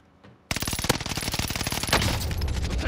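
Rapid automatic gunfire erupts in a multiplayer shooter after a brief quiet moment, a loud, steady burst of closely spaced shots that keeps going, followed by a heavier rumbling stretch.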